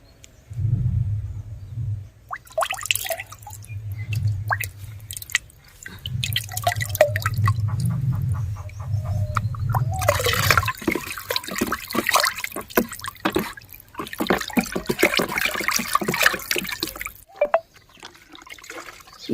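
Fish amino acid solution, mixed about 10 ml per litre of water, is poured from a container onto potted rose plants. The sound is a steady close splashing trickle that stops and restarts in several pours and ends abruptly.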